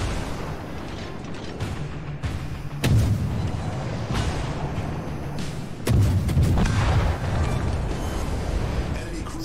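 Warship guns fire in World of Warships, setting an enemy ship ablaze. Two heavy booming salvos land several seconds apart over a steady mechanical rumble of the ship, each blast followed by a lingering roar, with no talk.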